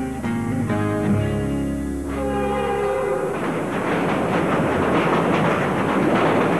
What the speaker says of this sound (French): Les invités de Michel Jasmin sont transportés en première classe à bord des trains de Via Rail.